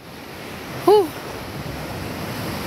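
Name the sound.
ocean waves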